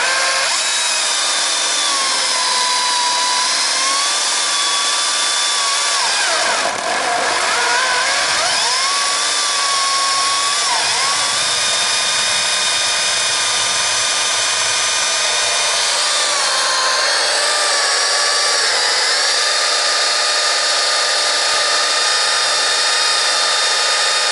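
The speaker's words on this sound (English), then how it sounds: "this has been the Stihl MSA 220 electric battery-powered chainsaw" A Stihl MSA 220 battery-powered chainsaw whines loudly and steadily as it cuts through wood, the pitch dipping under load and rising again, close and continuous throughout.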